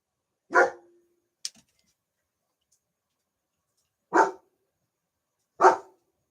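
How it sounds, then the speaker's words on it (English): A dog barks at thunder during stormy weather, giving three loud, sharp single barks separated by long silent gaps, with a faint click between the first two. "The dog was barking at the thunder."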